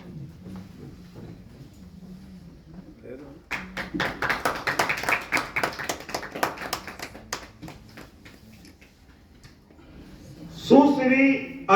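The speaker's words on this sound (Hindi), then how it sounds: "ताली बजाइए आप लोग, बच्चों का हौसला" An audience claps at an award ceremony, honouring children, with a quick patter of many hands that swells, holds for several seconds and then thins out, after a voice speaks over a low background and before another voice resumes loudly.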